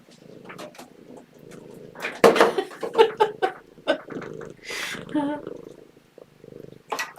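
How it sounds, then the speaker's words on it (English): A cat purrs close by, a low rumble broken by soft vocal sounds and brief shuffling noises. "Can you hear her purring?"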